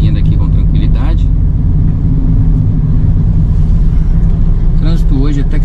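City-center street traffic rolls through downtown São Bernardo do Campo, a loud steady engine rumble with passing cars, while someone talks briefly at the start and end.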